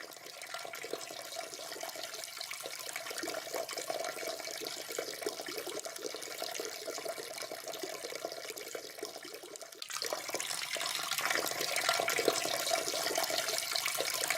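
Peeing sound effect from a Gacha Omorashi animation: a continuous hissing, splashing stream of liquid that swells louder in its final seconds.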